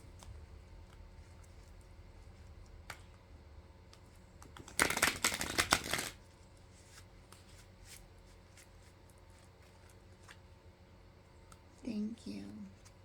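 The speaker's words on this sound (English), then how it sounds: "Let's cut the cards." A deck of oracle cards is shuffled and cut in one brisk riffle of about a second, close and fairly loud against a quiet room, followed by a short spoken remark.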